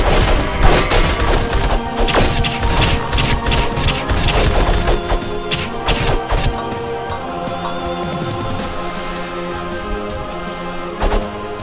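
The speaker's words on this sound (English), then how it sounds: "Got lots of cannons." Rapid volleys of cannon fire in the Castle Crashers video game, dense booming blasts and crashes stacked close together, loud at first and thinning toward the end with a final thump.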